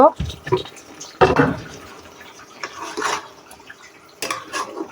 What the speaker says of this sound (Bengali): এইদিকে দেখো মাংসটা আমি আবার নাড়াচাড়া করে দিব।